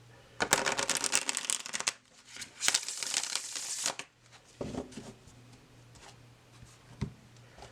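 A tarot card deck is shuffled up close, with two loud bursts of rapid riffling and crisp card flutter, then softer rustles and a few light taps.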